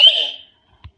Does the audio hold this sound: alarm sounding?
yes